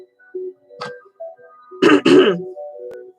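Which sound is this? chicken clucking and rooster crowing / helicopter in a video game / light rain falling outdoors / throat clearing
throat clearing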